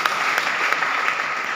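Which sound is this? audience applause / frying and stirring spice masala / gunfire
audience applause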